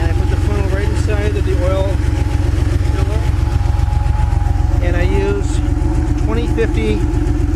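A vintage Porsche 911 engine idles with a loud, steady, low rumble throughout, while someone talks over it during an oil top-up.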